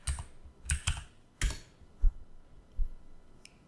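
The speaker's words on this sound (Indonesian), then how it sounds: "Saya tinggal ketik aja wow" Scattered keystrokes on a computer keyboard, several quick clicks in small bursts with short pauses between, close and clear in an otherwise quiet room, with no talking.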